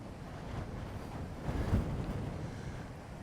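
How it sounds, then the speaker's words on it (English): Strong wind on a coastal spit in the UK buffets the microphone in a constant low roar, gusting louder midway, with no one speaking. "It's turned really, really windy."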